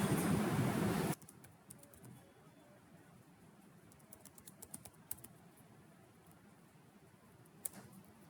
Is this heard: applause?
no